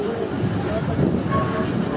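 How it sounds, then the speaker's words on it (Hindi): A train pulling out of Havelian railway station, a steady loud low rumble of rolling wagons and engine filling the whole moment, close by, with a faint tonal note drifting over it. "तो ट्रेन पूरे 2 बजे निकल चुकी है हवेलियाँ रेलवे स्टेशन से।"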